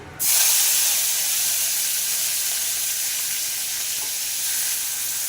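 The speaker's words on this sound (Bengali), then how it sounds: "কড়াইতে তেজপাতা দিয়ে মাছ কটা দিয়ে দেবো চিংড়ি মাছ কটা" Loud, steady sizzling from a hot wok as bay leaf and shrimp hit the oil, starting with a sharp burst and holding a constant hiss throughout.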